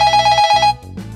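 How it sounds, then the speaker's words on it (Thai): A new latest-model iPhone rings loudly and close, sounding a bright repeating electronic ringtone pattern of rapid pulses that stops abruptly near the end. "ว้าวเธอซื้อโทรศัพท์ใหม่เหรอยาย่านั่นมันไอโฟนรุ่นล่าสุดเลยใช่ไหม"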